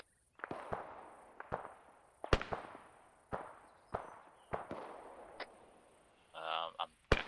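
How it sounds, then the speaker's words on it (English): Mortar and weapon fire in a military shooter game sound as a series of sharp cracking booms with short decays, roughly one per second, followed by a brief rumbling burst near the end. "Eyes on a mortar at the top of the hill, northwest."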